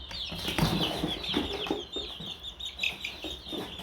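Month-old chicks in a poultry setting keep up a dense, continuous chorus of high peeping and clucking, close and fairly loud, with occasional wing flutters mixed in.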